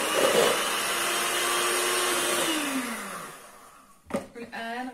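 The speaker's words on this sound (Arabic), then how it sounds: "وغادي نضربهم مزيان مزيان" An electric mixer beating cream and milk powder, a loud steady whirring drone whose pitch falls as it slows and stops, followed by a short clatter and a brief restart.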